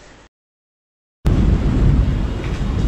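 A storm with thunder, strong wind and rain in Sri Lanka: a loud, sudden burst of broadband rumble after a moment of silence, continuing heavily to the end.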